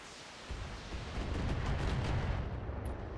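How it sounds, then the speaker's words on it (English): Missiles launch in a BattleTech Flashpoint battle, a dense rumbling barrage of rapid blasts that builds and holds at a steady, moderately loud level. "Some missiles."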